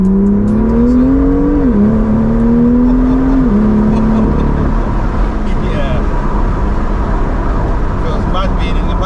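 A BMW M2 with an S55 engine revs hard from the passenger seat, a loud rising engine tone that climbs, dips briefly at a gear change, then climbs again before fading into road and wind rumble.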